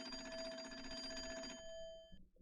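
A coin-operated payphone on a porch rings in a video game, a steady electronic bell trill that fills the first second and a half, then fades out and stops.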